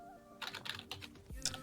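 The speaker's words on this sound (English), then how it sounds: "you'll hear the rhythmic clicking, and then just boom, it's over" Rapid keyboard clicks from someone playing a rhythm game, a quick run of sharp close taps over a steady low electronic hum, ending with a dull low thump and a final burst of clicks.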